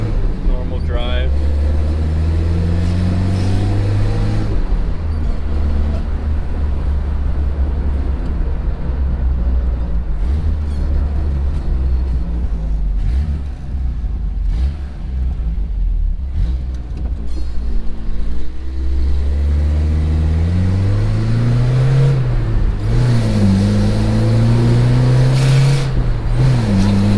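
A 1977 Toyota Celica GT drives along, its engine droning low and rising through revs in steady pulls, easing off mid-run before climbing again, with road rumble and occasional talk inside the cabin.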